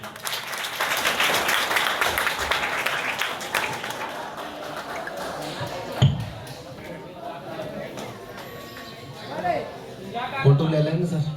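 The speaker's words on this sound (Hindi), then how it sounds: "एक बार तालियां।" Audience at a village high school prize ceremony clapping for award winners, a dense burst of applause that fades after a few seconds, followed by scattered voices and a few thumps.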